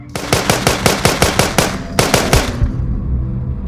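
Rapid automatic gunfire from a gun in a zombie video game, loud and close, with two quick bursts of evenly spaced shots followed by a fading tail and no talk.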